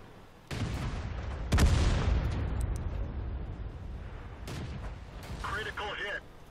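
World of Tanks Crusader SP self-propelled gun fires loud booming shots, a heavy blast followed by a rolling decay, then a second report and distant rumbles, with faint radio-like chatter near the end.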